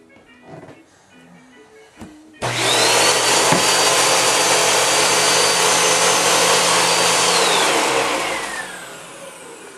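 A household vacuum cleaner switches on abruptly after a quiet stretch and runs with a steady, loud whine and roar, then winds down slightly near the end; no one speaks.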